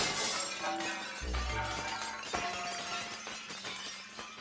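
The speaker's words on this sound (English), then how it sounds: "and it shatters like glass" A magical barrier in The Wind Waker shatters like glass, a loud, near burst of breaking shards followed by a deep low rumble and lingering tinkling debris, with no talk.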